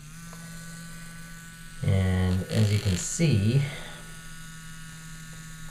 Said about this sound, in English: So I'm going to go ahead and turn on this toothbrush